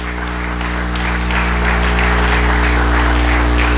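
A congregation applauds during a Spanish-language church service, giving a steady, loud, close burst of clapping over a low hum.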